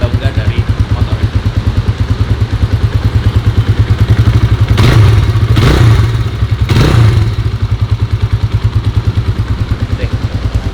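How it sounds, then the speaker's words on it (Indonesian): A restored Kawasaki KLX 150 S motorcycle engine idles steadily with a rapid, even putter, rising briefly in a few short revs midway before settling back to idle, loud and close. "Sebelum jalan nanti dicobain dulu keliling sini kira-kira masih ada yang kurang atau enggak dari motor ini."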